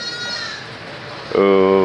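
A sheep in Dakar lets out a loud, harmonic bleat near the end, coming in suddenly over a background murmur of voices and ambient noise.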